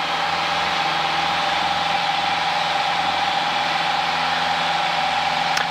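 Loud, steady propeller engine drone of a light aircraft held at high revs before takeoff, with a strong sustained tone and constant vibration throughout.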